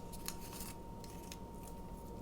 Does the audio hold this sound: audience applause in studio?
no